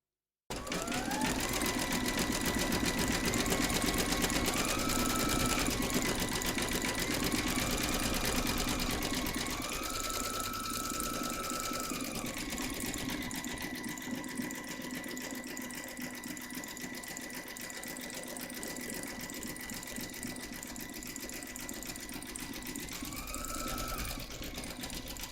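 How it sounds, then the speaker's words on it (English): A computerized embroidery machine stitches the word Easter on a treat bag in a hoop, giving a steady rapid mechanical whir with shifting pitch as the needle runs continuously for about twenty seconds, with only brief pauses. "Load your thread colour for the word Easter into your machine, and then stitch round number 5"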